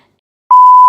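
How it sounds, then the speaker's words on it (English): A mobile phone gives a single loud, sustained electronic beep that cuts in abruptly after a moment of silence and holds steady to the end. "That's my phone."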